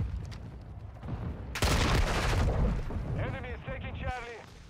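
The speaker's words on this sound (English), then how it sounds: "Whoa, what was that? Oh, it was like a Pred missile, I think." A Predator missile strike in Modern Warfare 2 lands with a loud, sudden blast that holds as a broad roar for a couple of seconds, set against scattered in-game gunfire, with a person talking over the later part.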